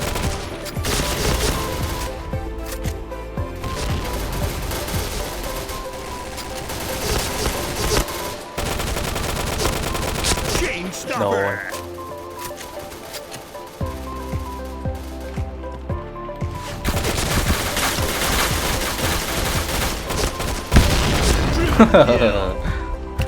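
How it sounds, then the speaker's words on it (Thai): Gunfire in the online shooter Point Blank, rapid bursts of automatic fire and single shots in quick clusters, loud and close, with short lulls between volleys. "ปืนเราแรงอยู่ครับ ขอแค่เรายิงโดนแค่นั้นเอง"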